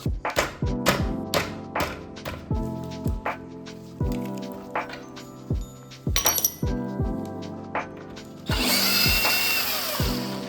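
A power tool such as an impact driver whirs and rattles in repeated short bursts while removing the shock absorber bolts from a budget moped frame, with metallic clinks, ending in a longer, harsher grinding run.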